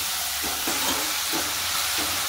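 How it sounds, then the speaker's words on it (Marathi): Chopped onion fries in a pan for pav bhaji, giving a loud, continuous close sizzle and hiss with soft stirring bumps now and then. "तर कांदा व्यवस्थित लालसर कलर येईपर्यंत भाजून घ्यायचा आहे"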